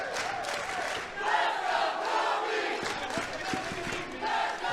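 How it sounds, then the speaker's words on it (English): Spectators at an MMA fight night in Augusta roar and yell, a broad swelling crowd noise that rises and falls over a few seconds, heard from some distance in an arena. "You can hear the crowd."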